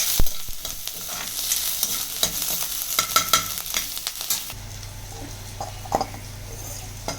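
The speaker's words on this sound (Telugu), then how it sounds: "లైట్గా వేయించుకోవాలి" Onions and chillies sizzle in a hot pan for egg fried rice, with a spatula clinking and scraping in irregular strokes, then a steadier, quieter fry with a low hum underneath.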